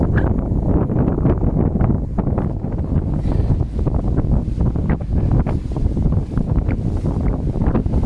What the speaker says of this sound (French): aujourd'hui, on a le vent de face